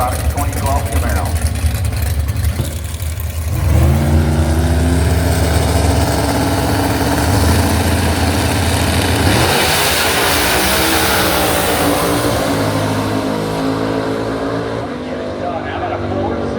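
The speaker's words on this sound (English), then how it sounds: "JC Performance Products 2012 Camaro" A JC Performance Products 2012 Camaro drag race car at Maryland International Raceway roars hard under acceleration, loud and continuous, then fades as it pulls away down the track, with a public-address announcer talking over it.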